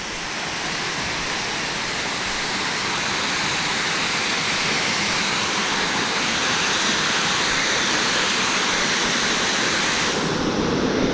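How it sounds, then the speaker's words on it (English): Water pouring over a park waterfall, a dense, steady roar of falling water that stays loud and constant the whole time, with no voices. "there's a lot of water dropping here"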